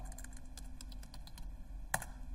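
Keys on a computer keyboard click in a quick, uneven patter as someone types into a sales entry form, close and fairly quiet, with one sharper keystroke near the end.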